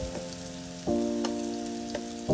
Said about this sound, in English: And let's add some onions and chilies.